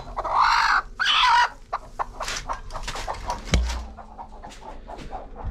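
Black-and-white spotted native hens cluck repeatedly at close range, with a few louder squawks early on and a sharp thump partway through.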